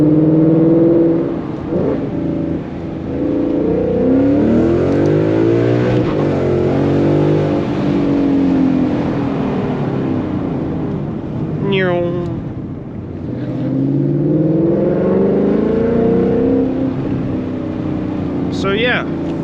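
A 2018 Ford Mustang GT with a Corsa Sport catback exhaust revs loudly and close by, its V8 rising and falling in long sweeping pulls, with a brief talking voice in the middle.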